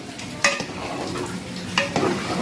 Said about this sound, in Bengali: এবার একটু ভালো করে নাড়িয়ে নিই